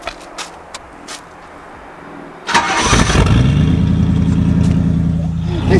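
A straight-piped Rolls-Royce limousine engine cranks and starts abruptly after a few quiet knocks, then settles into a loud, throaty, rumbling idle close to the microphone.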